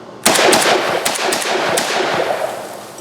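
Vepr-12 AK-style shotgun fired in a rapid string of loud, close blasts, several shots in quick succession with sharp reports ringing out over the first two seconds.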